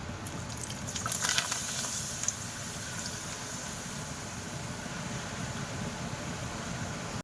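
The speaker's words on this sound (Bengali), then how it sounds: "এই যে পাঁপড় ভাজছি এখন।" Papad frying in hot oil makes a continuous, even hiss and crackle, with a few brighter crackling bursts near the start.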